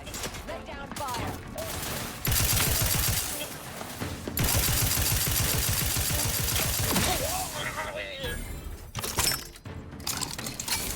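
Gunfire in The Outer Worlds 2, a dense fusillade of rapid shots and bursts that runs loud and continuous for several seconds, broken by brief pauses, with a voice speaking over parts of it.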